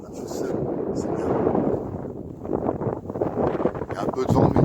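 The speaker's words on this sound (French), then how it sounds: "Il y a un peu de vent, mais il ne fait pas frais." Wind blows steadily across coastal dunes, a rushing, buffeting roar on the microphone that swells and gusts throughout, with light footsteps and movement underneath.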